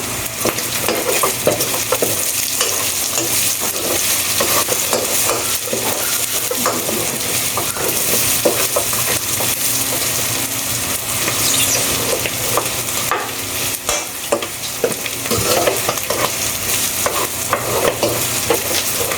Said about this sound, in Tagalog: pagkalagay ko ng gulay, haluin ko saglit, saka ko na ilagay yung bagoong